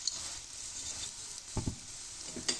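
Mooli paratha sizzles in cooking oil on a hot pan, a steady close hiss broken by a couple of brief crackling spatters.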